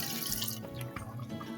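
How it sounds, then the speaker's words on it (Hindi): Water poured from a vessel into a pot of fried mutton for a creamy black pepper mutton curry, a steady splashing gush that settles into a softer trickle, close up with no voices. "तो यहाँ पे थोड़ा सा हम पानी डाल देते हैं"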